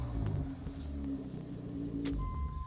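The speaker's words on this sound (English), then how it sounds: "let me rev it one last time." A Mazda MX sports car engine revved while parked, a low steady rumble with a slight rise in pitch, close and fairly quiet, with no voices.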